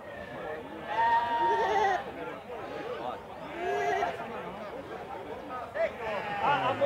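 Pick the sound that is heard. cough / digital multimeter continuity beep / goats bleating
goats bleating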